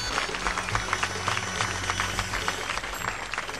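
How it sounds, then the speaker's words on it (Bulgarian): An audience applauds steadily, many hands clapping at once in a dense, continuous patter. "Моля вашите аплодисменти за тях."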